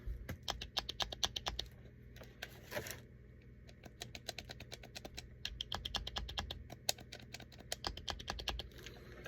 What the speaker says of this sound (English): they're more clicky. Whereas these buttons are more like, they're softer.